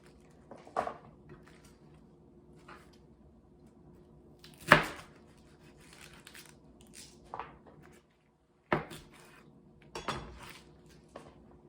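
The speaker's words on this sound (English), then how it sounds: "I'm not gonna chiffonade this time. Cut them like that." Fresh collard greens are cut with a knife, a few sharp chopping strokes and crunchy slices spaced apart against quiet background, close and distinct.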